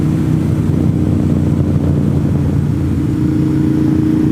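A tractor trailer truck drives along Wayah Road, its engine a close, steady, low rumbling drone with no break across the stretch.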